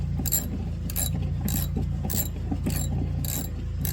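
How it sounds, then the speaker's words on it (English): Rhythmic ratchet clicks come as a ratchet with an extension tightens oil pan bolts on a 2021 Kenworth T680, with six even bursts of close, crisp ratcheting over a low background hum and no talk. "Now I can go ahead and grab the extension to tighten her down"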